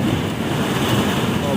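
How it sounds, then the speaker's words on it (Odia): A strong pre-monsoon nor'wester (Kalbaisakhi) storm: steady, loud, broadband wind roars against the microphone throughout, with a continuous rushing buffet and no talk. "ପବନ ଦଉଛି, ଦାନା ଉଡୁଛି ଦେଖିବେ କେତେ ଜୋରେ।"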